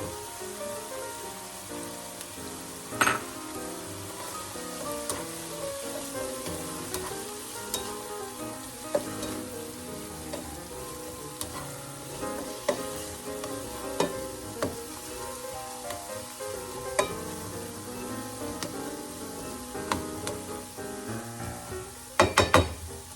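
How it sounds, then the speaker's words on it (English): Sliced bitter gourd (ampalaya) frying in a pan, a steady close crackling sizzle with occasional sharper utensil taps and stirs, continuous and without speech. "Cook until the Ampalaya or bitter gourd is soft, and then we will add our eggs."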